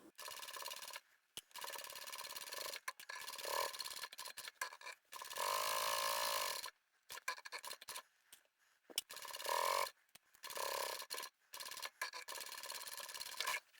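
Domestic sewing machine backstitching a reinforced corner on a crossbody tablet bag, heard as short bursts of close mechanical whirring that start and stop repeatedly with brief pauses between runs.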